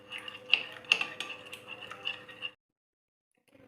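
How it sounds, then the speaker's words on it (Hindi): Oil, lemon juice and spices being stirred together in a bowl, a spoon clinking and scraping with several sharp taps over about two and a half seconds, then near silence. "अब इसको हम अच्छे से मिक्स करेंगे"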